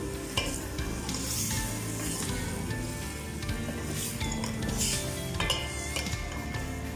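Chicken frying in a pan for matar gosht, with a continuous close sizzle, repeated stirring scrapes and occasional clinks of a metal utensil against the pan.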